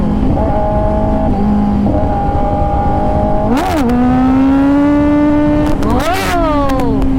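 A superbike engine holds a steady high drone, then revs sharply twice with rising and falling pitch, loud and close, as the rider sets up a wheelie.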